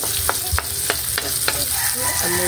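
Native chicken sizzling and frying in a pan, loud and close, with regular scrapes of a utensil stirring the pieces about every third of a second.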